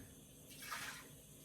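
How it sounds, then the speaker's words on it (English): Water is poured into an 8-quart Instant Pot with a trivet set inside, a brief soft splash and trickle lasting under a second over quiet background. "I'm gonna put a cup of water in here."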